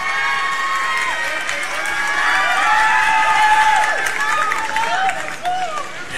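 Large crowd of school athletes and spectators cheering and clapping at a sports event where roast beef is handed out, loud and sustained with shrill shouts rising and falling.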